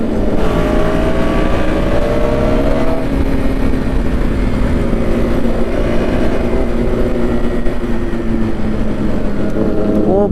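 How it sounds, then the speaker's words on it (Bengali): A superbike engine revs loudly and close by on a street, with a strong continuous roar and shifting engine tones that rise and fall. "বড়রাও তাকায় ভাই, সুপার বাইক এটা"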